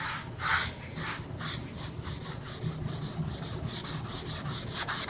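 A magic eraser scrubs motor oil off a surface in repeated rubbing strokes, a close, dry swishing friction sound in an uneven rhythm with no voices.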